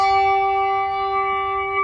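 Handbells from a bell choir rung with the regular ring, a sustained chord of clear, bright tones that hold and slowly fade across the whole stretch, close and fairly loud with no voices.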